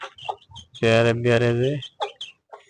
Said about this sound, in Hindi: ये रही हमारी प्यारी प्यारी मुर्गी और 2 चूजे